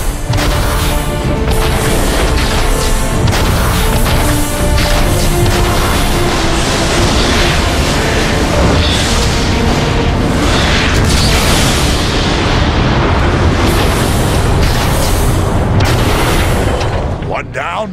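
Loud, continuous barrage of booming cannon blasts and explosions from the video game Transformers: Fall of Cybertron, dense and overlapping, with voices speaking over the din.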